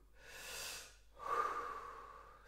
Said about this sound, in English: And then you breathe in 5 times.